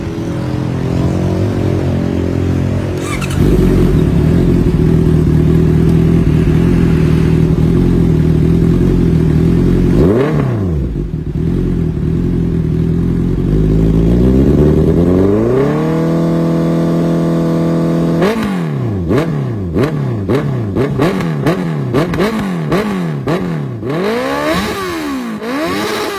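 A Honda CB650 motorcycle with a Villain Alpha Silver full exhaust idles loudly, then is revved repeatedly in sharp rising and falling bursts, ending in a quick series of short throttle blips, close and with no voices.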